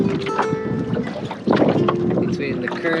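Steady wind rushes and buffets across open water on the Columbia River around a homebuilt rowing dory tied to a piling, a continuous broadband roar that swells louder midway with no talking.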